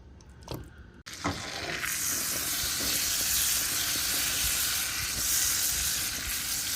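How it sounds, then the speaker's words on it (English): Marinated salmon steak dropped into hot butter, with a quiet clatter and then an instant, steady loud sizzle that hisses on continuously without talk. "Adding marinated fish steak to the butter fry"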